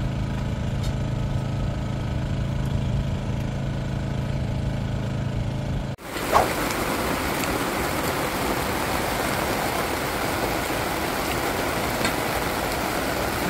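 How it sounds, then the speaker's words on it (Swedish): Rain dripping on a boat in the Ionian Sea off Corfu: a running engine hums first, then a dense, even patter of drops fills the rest, heard close with no talking. "Det droppar på oss."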